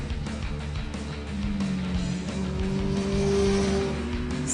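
Suzuki GSX-R1000 superbike at full throttle on a timed lap, engine note rising steadily and droning loud and close, with tire noise and no talk.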